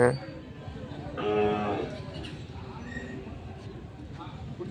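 Cattle at the crowded Anthiyur livestock market moo, one loud nearby low call standing out amid a busy murmur of people talking and general market noise.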